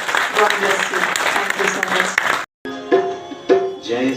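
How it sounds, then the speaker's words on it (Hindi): An audience at a motivational youth event applauds loudly for about two seconds and then breaks off, while someone speaks over and after the clapping. "एक बार जोरदार तालियां"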